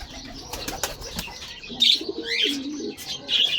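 Pigeons in a new loft at morning feeding time: a flurry of wing flaps in the first half, followed by soft low cooing and a few chirps, close and fairly quiet.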